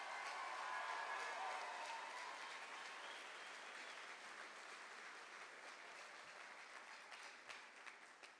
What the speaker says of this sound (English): How about one more big round of applause for graduating class?